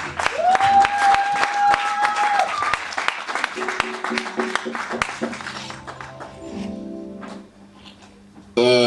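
A church congregation applauding, a dense rush of clapping that stays loud for most of the stretch, mixed with voices and sustained tones and thinning out toward the end.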